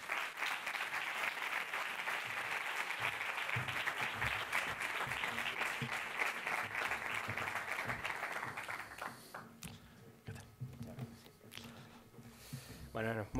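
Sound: audience applause for the mayor at gala

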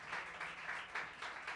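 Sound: audience applause

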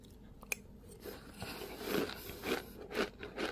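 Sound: snack being ground in a sesame grinding mortar

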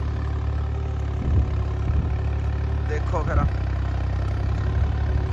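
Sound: tractor engine idling

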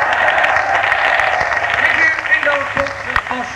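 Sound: concert crowd applause

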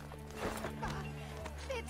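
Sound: horse hooves clip-clop in Assassin's Creed Brotherhood video game

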